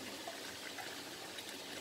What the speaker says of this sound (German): Bisschen Wasser, so circa 100 Milliliter, mehr nicht